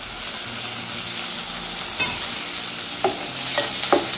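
Chopped tomatoes go into a pan of sizzling, softened onions for a rice-water curry, a constant close frying hiss broken by a few stirring scrapes and knocks of the spoon.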